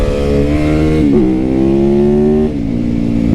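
Supermoto motorcycle engine revving hard and steady, loud and close, with two brief dips in pitch as the throttle shifts before climbing again; no talking.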